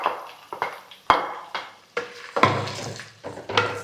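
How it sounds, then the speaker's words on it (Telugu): Onions frying with green chillies in a pan for a chicken curry, stirred with a utensil, giving repeated scraping and clanking strokes against the pan over a light sizzle, close and distinct. "ఆనియన్స్ అయితే మంచిగా ఫ్రై అయిపోయినాయి"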